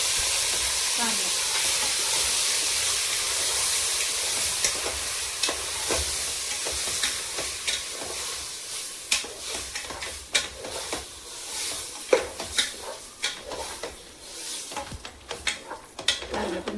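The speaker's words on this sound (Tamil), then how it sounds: "வெங்காயமும் பூண்டு வதங்கிடுச்சு. சீரகம் நல்லா பொரிஞ்சிடுச்சு." Onion, garlic and cumin sauté in hot oil for goat intestine soup, a steady loud sizzle broken by scraping stirs that grow more frequent toward the end.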